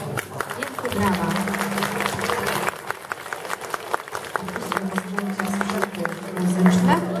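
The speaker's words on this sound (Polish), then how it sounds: "Brawa." Audience at a charity concert for the WOŚP 2016 fundraiser in Wiązowna applauding steadily after a Christmas carol, with dense clapping throughout and a voice speaking over it partway.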